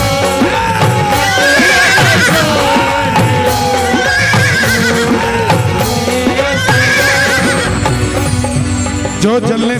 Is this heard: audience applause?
no